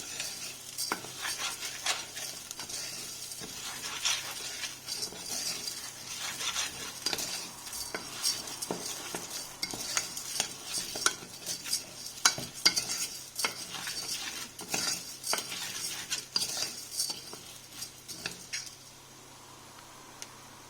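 A spoon scrapes and stirs rice steadily in a saucepan with a soft sizzle underneath, repeated clinks and scrapes close up.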